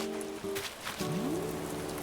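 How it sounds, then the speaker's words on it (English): Steady rain from Animal Crossing: New Horizons, a continuous soft hiss of falling drops with gentle in-game music tones running over it throughout. "It's not raining in real life, but it's raining in the game."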